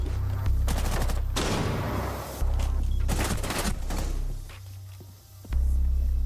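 Gunfight in Rainbow Six Siege: bursts of rapid automatic gunfire crackle in several clusters over a deep, constant low hum, loud and close.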